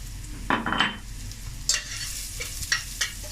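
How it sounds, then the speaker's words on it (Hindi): Ginger, garlic, dried coriander, black pepper and cumin frying in a pan for a lauki chana dal dish, a steady hiss broken by a few loud spoon stirs and scrapes against the metal. "अब हम इसमें अदरक लहसुन डालेंगे, साथ ही फ्रेंड्स हम इसमें सूखा धनिया, काली मिर्चें और ज़ीरा शामिल कर देंगे।"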